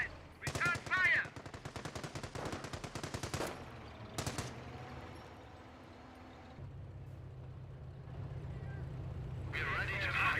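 Rapid bursts of machine-gun fire from a Company of Heroes battle, loud rattling volleys in the first few seconds with scattered later shots, then a low rumbling battlefield ambience with distant activity.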